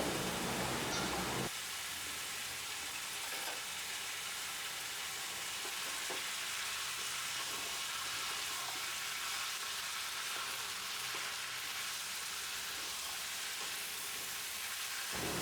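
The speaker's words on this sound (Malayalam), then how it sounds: "ഇതെല്ലാം കൂടെ ചേർത്തൊന്ന് വഴറ്റിയെടുക്കുന്നുണ്ട്." Chicken with chopped potato and carrot sizzles steadily in a hot pan, a loud, even hiss of frying that runs without pause, with occasional faint stirring scrapes underneath.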